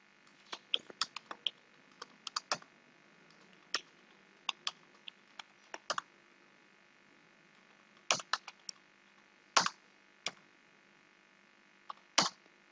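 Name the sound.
typing on a computer keyboard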